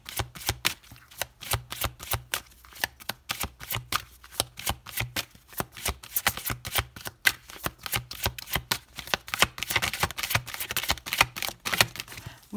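Oracle cards being shuffled by hand, a steady run of crisp riffling flicks and slaps up close, continuous and fairly loud with no talking.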